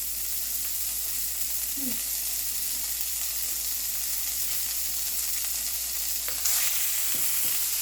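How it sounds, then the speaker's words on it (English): Ground beef browns in a hot cast iron skillet with a steady, close sizzle, broken by a few clicks and scrapes as the meat is moved about. "I'm going to add my meat in here, cut it in half"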